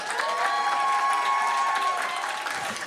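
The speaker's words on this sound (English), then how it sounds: "Can we have like the biggest round of applause?" Steady applause from an audience at a Boston Fashion Week event fills the room, sustained and fairly loud for the whole stretch, with faint crowd noise mixed in.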